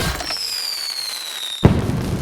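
A firework streaks upward with a long descending whistle, then bursts in a sharp close crack that rolls into crackling, set against a steady festival crowd murmur.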